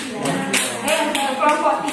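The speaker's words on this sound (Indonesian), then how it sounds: "Tepuk tangan untuk kelompok 2." Classroom applause for a student group, with a few hands clapping in uneven bursts, nearby and moderately loud, mixed with voices talking.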